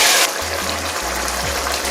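Chicken stock poured into a cooking pot for a chicken fricassee, a short burst of splashing liquid at the start giving way to a low steady rumble.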